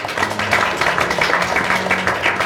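Audience applause at a university debate event, steady broadband clapping throughout with a low hum and some faint voices underneath.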